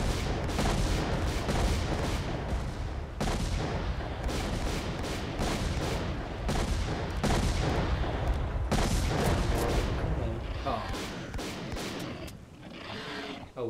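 Gunfire in the shooter game S.T.A.L.K.E.R.: Call of Pripyat comes in dense, rapid bursts separated by short gaps, loud and continuous for most of the stretch before tapering off near the end.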